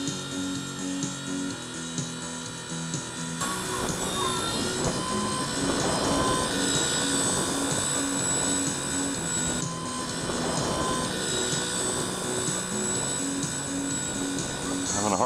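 A converted MCPx flybarless collective-pitch RC helicopter, flying on a single main blade with no tail rotor in heavy wind, whines with a steady high-pitched buzz that stays loud and close.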